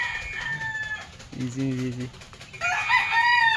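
Chickens and a rooster on a farm, with a clear rooster crow in the middle and clucking fowl around it, close and loud, as someone speaks briefly over the birds.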